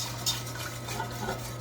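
Cheese sauce is whisked in a pot, making light, continuous metallic scraping and tapping with one sharper clink near the start, brief and close, with no talking.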